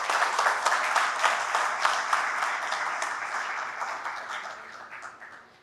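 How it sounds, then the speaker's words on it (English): An audience at the 2021 Startup Appalachia Pitch Competition gives the participants a last round of applause, a dense roomful of clapping that holds steady and then slowly fades toward the end, with no talking. "So everybody give the participants one last round of applause."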